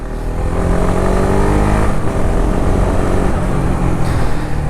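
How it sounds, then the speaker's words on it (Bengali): A 2021 Honda CBR 150R with dual-channel ABS runs with a loud, steady exhaust drone close by, holding an even rumbling note throughout with no talking. "কোনো একটা বাইকের সাথে এই বাইকের এক্সস্ট নোটের সাউন্ডটা কিছুটা মিলে"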